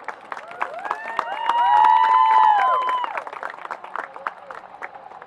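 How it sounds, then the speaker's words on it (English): Crowd clapping and cheering at a high school football senior night builds from scattered claps to a loud swell, with a sustained tonal sound overhead, then tapers back to steady applause. "give a big round of applause"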